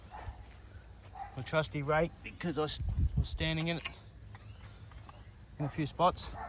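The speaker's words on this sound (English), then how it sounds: "Excuse the dog barking over there." A dog barks a few times in short bursts some distance off in a yard where a rake is being used to rough up soil for planting, heard under someone talking close by.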